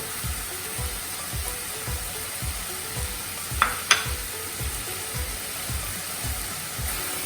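Vegetable pulao with fresh coriander being stirred and mixed in a hot pan, with a regular rhythmic scraping of the spoon over a steady sizzle and a couple of sharp clinks partway through.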